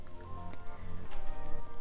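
A short splash of 6% apple cider vinegar being poured onto soft, moist grated apple, close up, with a faint wet squish.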